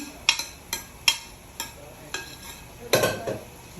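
Onions go into a pan for papaitan and are stirred, giving sharp metallic scrapes and clinks in a loose rhythm over a soft sizzle, with one louder clatter near the end.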